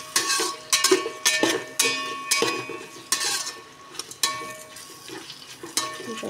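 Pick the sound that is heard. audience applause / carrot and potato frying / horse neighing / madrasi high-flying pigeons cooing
carrot and potato frying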